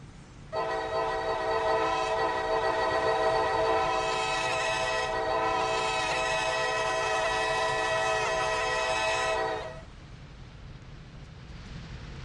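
A Norfolk Southern train passing a railroad switch sounds a long, loud horn blast lasting about nine seconds, then leaves a low rolling rumble once the horn cuts off.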